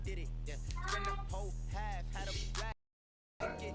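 A cat meows several times in a row in a quiet home at night, with rising and falling cries over a low rhythmic hum. The sound cuts to silence briefly near the end, then resumes.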